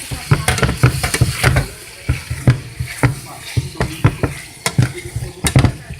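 Vegetables for a meatless vegetarian dish being stirred and mixed in a pot, with a rapid run of close, knocking spoon scrapes against a wet, bubbling sizzle, pausing briefly and picking up again.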